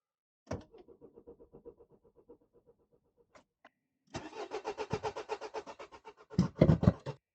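A car engine tries and fails to start: a weak, labored starter crank chugs briefly, pauses, then a longer, louder cranking run churns without catching before ending in a few harsher grinding turns.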